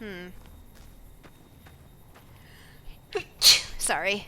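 A loud, sharp human sneeze bursts out near the end, following quiet game background sounds during a Fallout: New Vegas session, with a brief spoken apology nearby.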